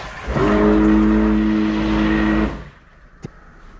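The motor of a Saniflo up-flush toilet in a shipping container house starts with a loud, close, steady whining hum for about two seconds, then cuts off, leaving quiet room tone and a single sharp click.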